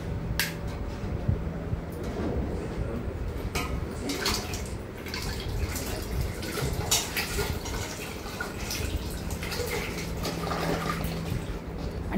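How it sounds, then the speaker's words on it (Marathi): Potato slices for wafers being dropped into a large pan of water with a piece of alum stirred in, giving a steady, close watery sloshing and splashing with occasional small drips and knocks throughout. "त्याच्यामध्ये आपल्याला बटाट्याचे स्लाइस घालायचे आहेत."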